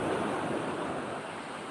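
Surf washing onto a steep tropical beach, a steady broadband rush of breaking waves with wind noise, loud and continuous without a break.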